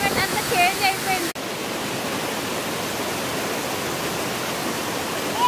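Ranajileda waterfall in Araku Valley roars as a steady, dense wash of falling water, loud and close, with a brief voice at the start before the rush continues alone.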